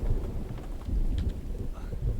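Rain in a video game falls as a steady, dense wash, with low rumbling beneath it suggesting thunder, loud and continuous with no voices.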